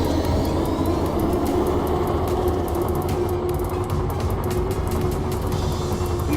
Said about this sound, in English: And we are going to take off.